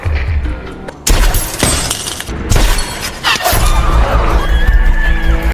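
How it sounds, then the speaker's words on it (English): A bullet strikes bulletproof glass in a film scene, a loud crash and shatter among dense, busy effects with a few sharp impacts and rattling debris, without a break. "the bullet strikes the bulletproof glass"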